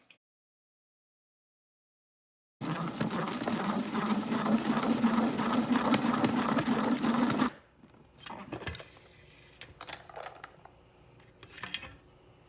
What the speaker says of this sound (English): I just use a salad spinner, and I'm trying to make sure that it's evenly distributed with the weight